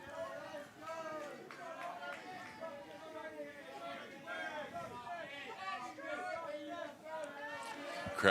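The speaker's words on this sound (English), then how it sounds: "Crowd's getting louder, so are the teams." Crowd chatter and cheering fill the stands at a boys' Division 1 softball semifinal of the New Zealand secondary schools championships, a steady babble of many voices with louder swells near the end.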